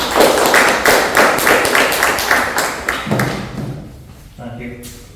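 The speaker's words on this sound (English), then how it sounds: "Please give a huge round of applause" Loud, close applause from a Toastmasters club meeting audience welcoming the next role player, dense clapping for about three seconds before fading as a speaker begins talking.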